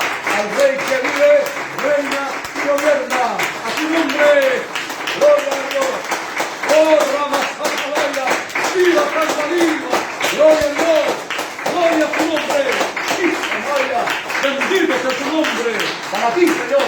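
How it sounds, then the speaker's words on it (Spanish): A church congregation claps in praise during a sermon, a dense rhythmic patter of many hands that runs throughout, loud and steady, beneath sung or chanted voices. "Dale un fuerte aplauso de alabanza al Rey que vive, reina y gobierna."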